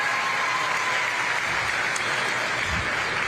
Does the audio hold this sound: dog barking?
no